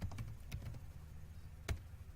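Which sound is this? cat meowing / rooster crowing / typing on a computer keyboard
typing on a computer keyboard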